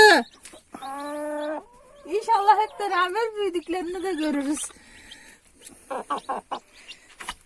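High, thin peeping of newly hatched chicks in winter, in short bursts, with a person speaking in between.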